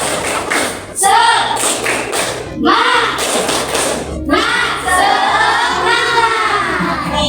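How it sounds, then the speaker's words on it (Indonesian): A group of children chanting loudly in rhythm with clapping, the claps and voices close and filling the whole stretch. "kita tepuk semangat lagi, ya? Ya. Tepuk semangat."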